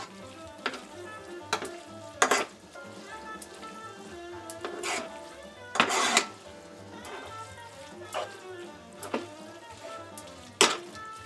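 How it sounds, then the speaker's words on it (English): Creamy turmeric pasta being stirred and mixed in a pan with a spoon, giving repeated scraping clatters and soft bursts of sizzle at an uneven pace, close and moderately loud, with no talk. "once you get the pasta in here, mix well, and you can turn off the heat"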